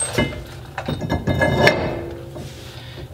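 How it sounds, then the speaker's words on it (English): A brake rotor is fitted onto the hub of a Nissan 240SX, with several close metallic clunks, knocks and scrapes in quick succession, no talking. "The next thing I'm going to do is I'm going to put the rotor on."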